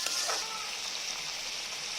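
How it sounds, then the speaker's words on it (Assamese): Steady sizzling of potatoes frying in a pan, a continuous hiss with no talking. "এতিয়া এইখিনি মই ভালকৈ এবাৰ ভাজি ল'ম"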